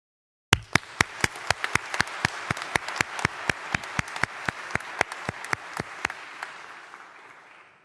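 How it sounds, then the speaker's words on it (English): Audience at a graduation ceremony at Greenwich University in England bursts into steady applause, with sharp individual claps standing out over a dense wash of clapping that carries on for several seconds before easing off. "So please, let's get a big cheer for all of you."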